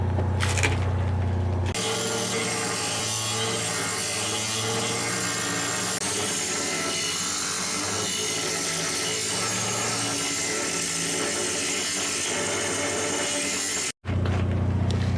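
A cutting blade widens the kerf in a rust-damaged steel dump box, sounding as a loud, steady, rasping grind that starts after a short pause and runs for about twelve seconds before stopping abruptly.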